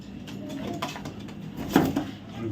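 A big male racing pigeon gives a quiet, brief coo amid faint background sounds, with no one speaking.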